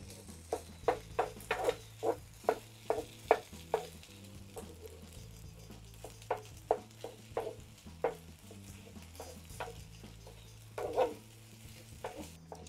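Vegetarian fried rice with egg (Japanese chahan) is stirred and tossed in a hot pan, giving a rhythmic series of sharp scraping strokes over a soft, steady sizzle, close by with no voices.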